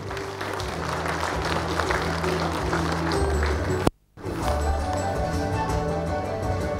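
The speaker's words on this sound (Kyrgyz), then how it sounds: "Сертификаттарды куттуктап кол чаап берели." An audience at an awards ceremony applauds certificate recipients with steady, moderately loud clapping and a low hum, briefly cut by a sharp break before the clapping resumes.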